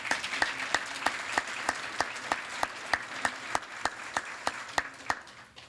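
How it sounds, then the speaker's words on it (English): Audience applause at an award ceremony, steady clapping with distinct individual claps standing out, moderately distant and tapering off toward the end. "Another round of applause for the Grebmeyers."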